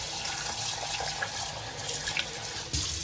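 Water poured from a tap onto potatoes in a cooking pot, a steady close rushing stream that runs throughout with a brief louder surge near the end.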